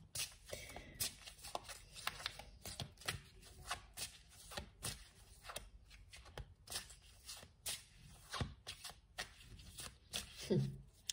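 Tarot cards being shuffled, a quiet, close series of rapid riffling bursts and soft slaps in an irregular rhythm, repeating over and over with brief pauses between.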